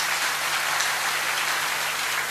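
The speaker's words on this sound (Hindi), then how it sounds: "जोरदार ताली बजा करके इन्हें धन्यवाद दो।" Dense, steady applause from a large audience at a Bageshwar Dham Sundarkand Mandal meeting, thanking eleven organisers; a continuous broadband wash with no distinct voices, heard at moderate distance.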